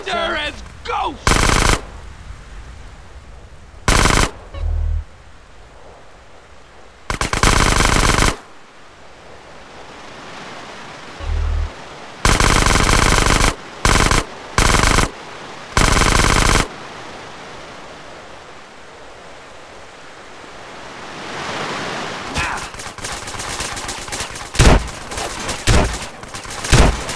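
Loud bursts of automatic gunfire from GTA San Andreas during a shootout with Triad gang members, several separate volleys of rapid shots broken by quieter stretches, with a rougher rattle of fire near the end.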